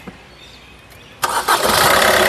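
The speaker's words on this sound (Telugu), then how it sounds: "సింగిల్ సెల్ఫ్లో కార్ స్టార్ట్ అవుతుంది" A 2018 Maruti Suzuki S-Cross ZETA engine cranks briefly and catches on the first try, then settles into a loud, steady idle close by after a quiet start.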